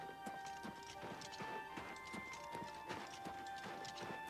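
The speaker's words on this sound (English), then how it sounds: "Always a horse. Right in front of the gates." Horse hooves clip-clop steadily in the snowy Oblivion Remastered game world, a regular trotting rhythm of hoof strikes at moderate distance over a soft ambient background, with no talking.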